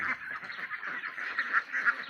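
A flock of ducks foraging on grass in the evening keeps up a continuous overlapping chorus of nasal quacks and honks, close and steady with no talk.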